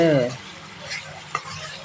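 Tempering for churumuri susla stirred in a hot pan, a brief loud sizzle at the start fading into soft frying crackle with a light utensil scrape.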